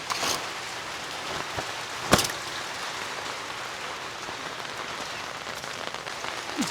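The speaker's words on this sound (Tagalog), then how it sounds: "Malakas yung ulan." Heavy rain pours steadily on a small farm near the pig pens, a dense constant patter with one brief sharp knock partway through and no talking.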